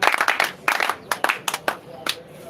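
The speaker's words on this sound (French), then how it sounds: "Tu as besoin d'une acclamation." Scattered handclaps from an audience at a French-language sermon break out in a few short, uneven bursts, fairly close, with a voice speaking among them.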